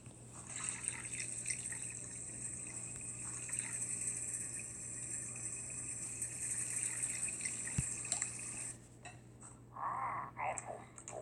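Water boiling for shrimp in the Toca Kitchen video game, a steady synthetic liquid sound effect with a faint tonal hum, running evenly before shifting to brief bubbling gurgles near the end.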